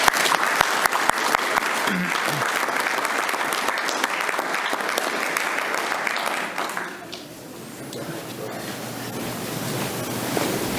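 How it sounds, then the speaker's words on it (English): A city commission meeting audience applauds for the Young Marines, sustained even clapping from many hands that thins slightly toward the end, with a few voices murmuring. "Let's give these young folks a big round of applause"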